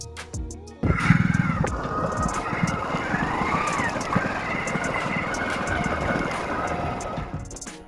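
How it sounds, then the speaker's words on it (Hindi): Motorbike riding along a deserted mountain road near a hillside temple in Bundi, Rajasthan, its engine a steady continuous drone that fills the whole stretch after a sudden start, with no talk over it. "सिर्फ बाइक की गूंज और पहाड़ों की खामोशी"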